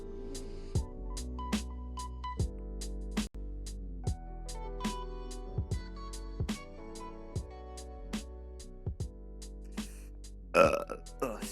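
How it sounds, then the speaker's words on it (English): A burp blurted close into a microphone, set against a steady backdrop of regularly pulsing tonal sound, with a rougher burst near the end. "Didn't mean to burp in the mic for you guys."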